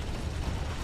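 A brief, steady mechanical grinding rumble of a tank turret traversing in the War Thunder video game, dense and low with faint rattling texture throughout.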